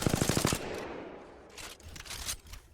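An R-301 rifle firing full auto in Apex Legends: a quick burst of rapid, evenly spaced shots up front, then fainter scattered game sounds and clatter.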